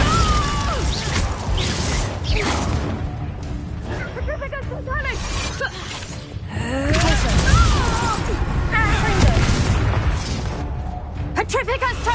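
Bombarda blasting spells from Hogwarts Legacy burst and boom one after another amid crackling magical effects and clattering debris, loud and close, with other spell sounds and brief voices woven through.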